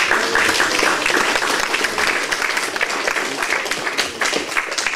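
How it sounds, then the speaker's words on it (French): An audience at an Afro-themed evening soirée applauds the event's organiser, dense clapping from a crowd that stays loud and steady for several seconds, then thins slightly without dying out. "Je vous demande également de l'applaudir, s'il vous plaît."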